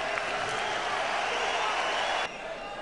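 A boxing arena crowd cheers as the action heats up late in the third round of Felix Sturm vs. Martin Murray, a broad steady roar that holds evenly, then drops abruptly near the end.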